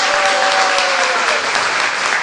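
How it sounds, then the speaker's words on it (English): An audience claps for a visiting spiritual speaker at an ISKCON temple gathering, a short burst of dense, steady applause from a room full of people. "Let's have another round of applause for"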